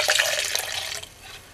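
Crystal Head vodka poured from its bottle in one steady gurgling stream, close and clear, tailing off toward the end.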